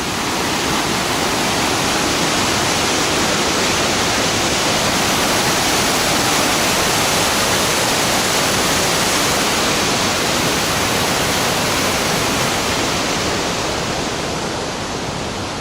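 A forest waterfall roars up close in a loud, dense, unbroken rush of falling water that stays steady throughout with no voices.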